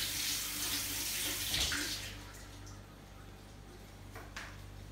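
Asparagus spears being rinsed under a running kitchen tap, a steady close stream of water splashing that is loud at first and then eases to a quieter, continuous flow.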